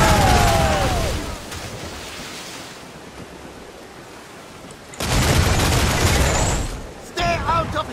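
Ship cannons boom during a naval battle in Assassin's Creed IV Black Flag, loud blasts and rushing roars over ocean surf, with shouted voices in between.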